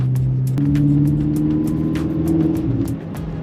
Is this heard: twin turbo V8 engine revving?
yes